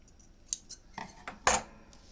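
Fabric scissors snipping through paper, several quick crisp cuts close by, the last one loudest, in an otherwise quiet room.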